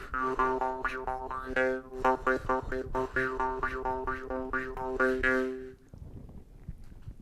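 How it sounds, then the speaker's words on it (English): Jaw harp twanging in a steady rhythmic pulse, the tone swelling and shifting with each in-and-out breath, close and fairly loud, then stopping abruptly. "you play it in and out like that"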